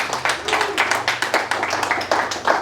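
A church congregation claps steadily for a few seconds, a dense, lively burst of applause with no talking.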